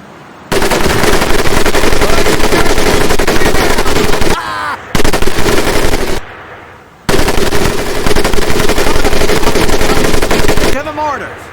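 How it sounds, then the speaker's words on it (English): An M1919A4 .30 caliber machine gun in the Medal of Honor: Pacific Assault game fires long, loud, sustained bursts, three strings broken by brief pauses, with voices heard faintly between them. "M1919A430 caliber machine gun"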